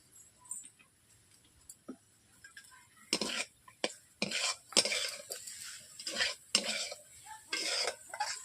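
A utensil stirs mixed beans, potato, eggplant and carrot in oil in a pan, making close, irregular scraping and clinking strokes that grow busier after a quiet start, with a faint sizzle underneath.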